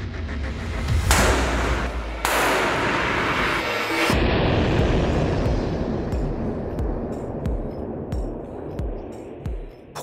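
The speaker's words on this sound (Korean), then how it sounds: "폭발과 동시에 화염이 치솟았다." A heated urethane foam spray can bursts in a lab test, with loud booming blasts followed by roaring flames and crackling that fades with scattered pops.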